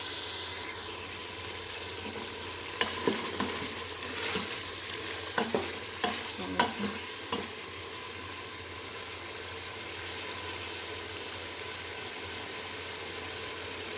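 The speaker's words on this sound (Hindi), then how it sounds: "अब आलू डाल के भी इसको हम मज़ीद 5 मिनट भूनेंगे।" Continuous sizzle of beef and potatoes frying in a pot, with a run of scraping and clattering stirring strokes in the middle, close up and steady throughout.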